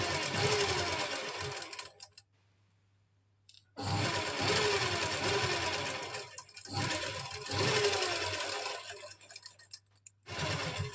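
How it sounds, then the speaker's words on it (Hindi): Sewing machine running in close, loud bursts while stitching small stitches along the neckline of a lined kameez, with short pauses between runs of steady mechanical whirring. "यहाँ पर जो हमारा नेक है इसके साथ साथ हम छोटे टांके की सिलाई लगा देंगे।"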